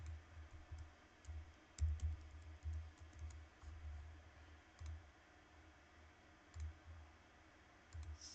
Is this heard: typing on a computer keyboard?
yes